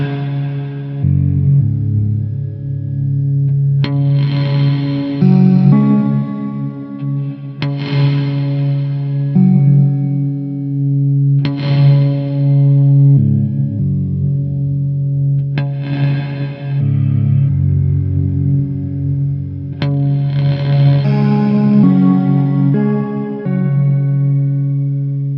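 Slow, ringing electric guitar chords pass through an EarthQuaker Devices Afterneath V3 reverb pedal in mode 8, each strum blooming into a washy tail layered with octaves and fifths, repeating every few seconds over a sustained drone.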